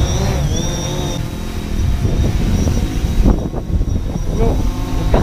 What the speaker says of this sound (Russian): движки запустились у коптера